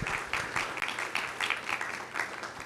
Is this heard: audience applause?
yes